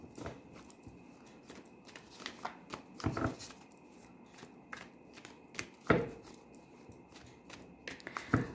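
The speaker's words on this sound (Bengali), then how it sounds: "কার্ড পড়ে যাচ্ছে" Tarot cards are shuffled by hand and some fall: quiet, close riffling and flicking, with sharper taps and slaps as cards drop, coming in irregular bursts over several seconds.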